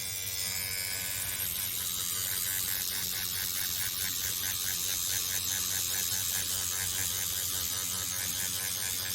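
A microneedling pen runs steadily on a client's skin during a professional treatment, giving a continuous close buzzing, mechanical whir with rapid rhythmic ticking throughout and a brief change at the start.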